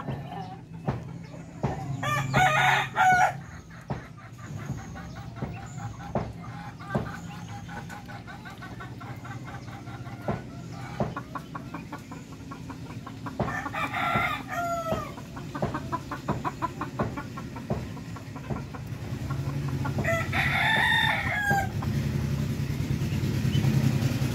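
Backyard chickens and chicks in the Philippines, with repeated bursts of rooster crowing and clucking at close to moderate distance over steady rustling and faint background noise.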